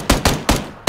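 PUBG Battlegrounds gunshots ring out four times in quick, slightly uneven succession, each a loud close crack with a short decaying echo and no talking.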